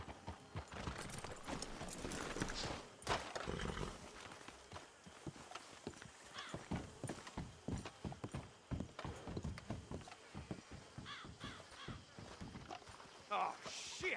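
Horses walking in the video game Red Dead Redemption 2, a steady clip-clop of hooves on the ground close by, with an occasional whinny and faint rattling of gear, while voices talk over it.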